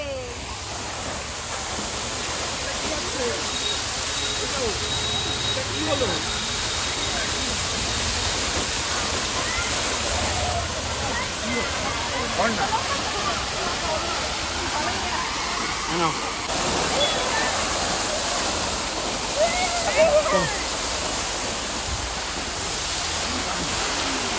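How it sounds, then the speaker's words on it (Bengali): A waterfall pours down at a large outdoor site, its dense rushing roar steady and close throughout, with faint voices now and then beneath it. "ঝর্ণা পড়ছে।"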